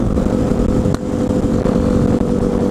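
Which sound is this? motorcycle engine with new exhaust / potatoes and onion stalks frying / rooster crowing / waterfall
motorcycle engine with new exhaust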